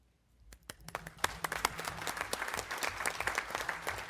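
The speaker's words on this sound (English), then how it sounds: "applause that I just initiated was totally self-serving" Applause starts from near silence and builds into steady clapping from a room full of people, dense and continuous for several seconds.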